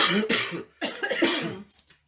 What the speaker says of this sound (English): we're both over here coughing